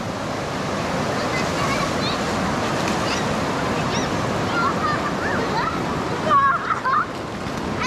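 Flowing river water at Barangay Carmen, a steady broad rush with children splashing and swimming, their distant high voices rising near the end over the constant water.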